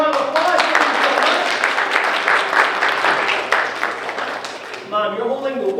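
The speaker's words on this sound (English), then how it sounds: "Let's give them a round of applause." Audience at a magic show breaking into sustained applause, a dense wash of clapping that swells and holds for several seconds before fading as a voice begins talking at the end.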